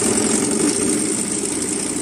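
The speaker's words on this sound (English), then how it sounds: "Overlock your shoulder seams so that you can sew them together." Overlocker sewing machine running along shoulder seams of a garment, a steady, close, continuous mechanical hum and whir with a bright high edge and no break, no talk.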